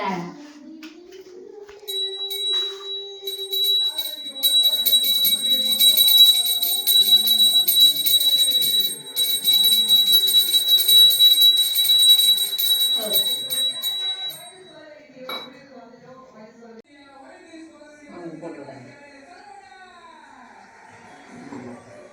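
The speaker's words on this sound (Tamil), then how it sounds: "பெருசாத்தே மணி எடுத்தாடி மணி" A brass hand bell rung steadily during worship at a home shrine for Thaipusam, a bright continuous jangle held for several seconds, with a voice and other chatter mixed in around it.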